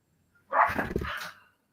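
A single short dog bark or yip sounds close and clear for about a second, alone after a brief silence.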